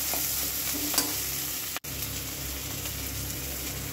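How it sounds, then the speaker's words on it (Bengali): Bean and pea filling is stirred and sautéed in oil, a steady frying sizzle with soft scraping strokes and a momentary dropout midway, no voices. "এটাকে তেলের মধ্যে ভালো করে নেড়ে ছেড়ে কষিয়ে নিতে হবে।"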